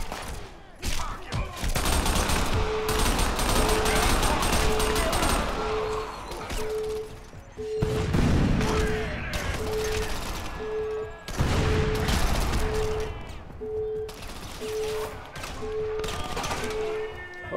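Sustained bursts of video-game gunfire in Crackdown on Xbox 360, rapid overlapping shots loud and close, broken by short pauses, with a steady electronic tone running beneath.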